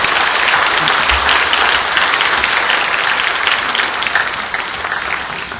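A church congregation gives a pastor a big send-off round of applause: dense, loud clapping that holds steady for several seconds, then eases slightly toward the end.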